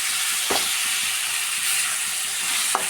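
A potato and brinjal curry is stirred in a hot pan, with a constant sizzle and a couple of distinct scraping strokes from the spoon.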